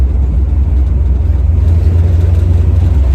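A 1970 Chevrolet Nova with a 383 stroker V8 drives along, its engine a loud, deep, throbbing rumble heard steadily from close by throughout.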